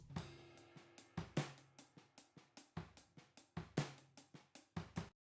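A drum kit heard from above, with crisp cymbal washes and sharp hits ringing out in a steady groove, bright and roomy.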